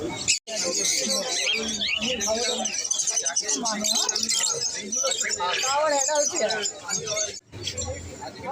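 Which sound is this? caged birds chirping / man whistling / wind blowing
caged birds chirping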